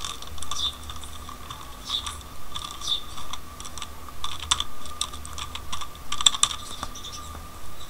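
Someone types a name on a computer keyboard in short bursts of crisp key clicks, close and fairly quiet against a faint background hum, with no talking.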